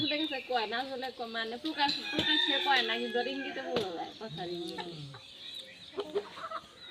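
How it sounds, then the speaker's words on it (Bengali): Large layer hens cluck and chatter close by as they peck at eggshells, with a voice talking among them. "এই যে মুরগি ডিমের খোসাগুলো খাচ্ছে মুরগুলা দেখেন কত বড় বড় হ্যাঁ।"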